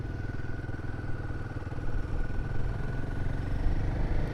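A Royal Enfield Himalayan 450 motorcycle lugging in second gear gives a steady, close, low engine drone with a pulsing rumble that grows slightly louder partway through.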